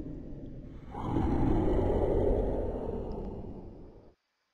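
A ghost despawning in the Roblox game Brookhaven RP gives off a loud, breathy whooshing swell that rises, holds for about three seconds and fades before cutting off sharply, with no talk over it.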